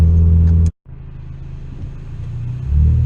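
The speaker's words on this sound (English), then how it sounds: "you guys can just listen to the interior of the car with, you know, very little gas" Inside the cabin of a 2016 Ford Focus RS driving slowly through town on light throttle, a low engine drone and road rumble continue after a brief cut, swelling slightly toward the end.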